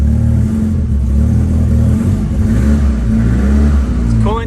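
A Datsun 510 with a swapped Nissan SR20 engine runs steadily and loudly up close, a continuous low drone with no talking over it.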